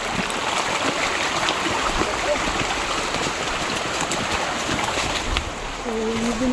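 A small river flows in a steady, broad rush of water during a crossing on foot, loud and constant throughout, with a faint tonal sound near the end.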